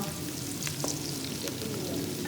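Onions frying on high flame in a pan, a steady close sizzle with a few soft stirring taps, no voices.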